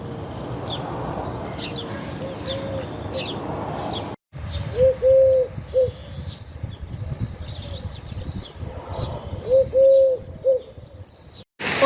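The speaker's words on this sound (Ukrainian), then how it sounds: "Та пташки як співають." Birds coo and chirp outdoors in a park in Ukraine in spring, a pair of soft repeated cooing calls rising over a hum of distant ambient noise.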